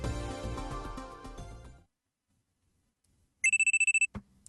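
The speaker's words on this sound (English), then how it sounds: "I'm sleeping on the couch when a loud alarm rings in my ears." A loud electronic alarm in the video game Steins;Gate Elite beeps in a rapid burst of about nine even pulses, following music that cuts to near silence, then ends with a short thump.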